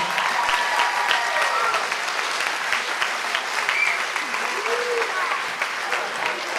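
Gala audience clapping and applauding, a full, sustained burst of hands with a few voices calling out over it, loud and even for the whole stretch.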